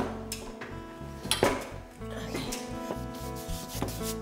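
Large brush sweeping paint across a canvas for a sky in a trompe-l'oeil mural, a continuous scratchy rubbing with louder strokes throughout, close and alone.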